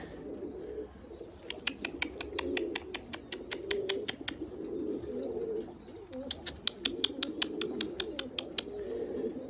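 Erzurum white breeding pigeons coo steadily in a low, soft murmur, with two bursts of rapid high chirping layered over the continuous cooing.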